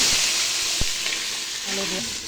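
Potatoes with green chilies fry in a pan, giving a steady close hiss of sizzling oil with a few brief stirring knocks.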